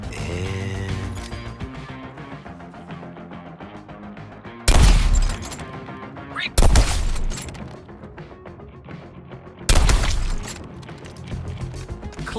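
Gunfire in Suicide Squad: Kill the Justice League, three loud, sharp bursts at irregular intervals over a steady bed of game music and mechanical noise.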